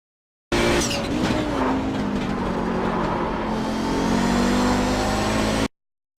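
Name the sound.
Audi 90 GTO race car engine braking, iRacing video game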